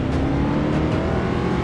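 Ford Mustang engine in Forza Motorsport 6 racing, a loud steady drone of continuous acceleration, close and alone without talk.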